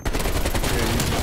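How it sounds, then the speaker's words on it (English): Shotgun fire in Call of Duty: Black Ops Cold War during online play, loud and dense, with overlapping blasts and game effects filling the whole moment. "Shotgun."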